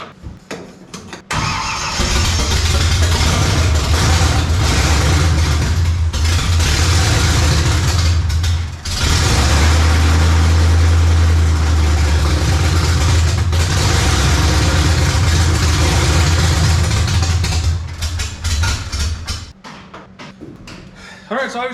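A 1955 Chevy with a small block V8 cranks, fires and runs loudly, with revs rising and falling under the throttle before it settles and cuts off, while someone talks over it.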